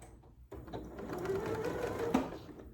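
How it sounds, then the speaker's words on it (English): A Janome Memory Craft MC9450 sewing machine back stitches on a zippered pouch, its motor starting after a short quiet pause and then whirring steadily up close with a rapid, even needle rhythm. "I'm going to back stitch."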